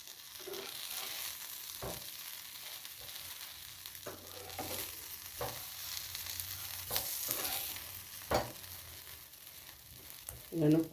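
Bread and potato cutlets fry in refined oil in a pan, giving a steady, close sizzle with a few sharp clicks and stirring knocks throughout, and no one speaks.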